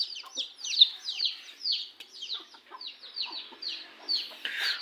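Chickens at a rural home in Houaphanh province, Laos, cluck repeatedly in a steady stream of short calls, fairly close and clear with no talk over them.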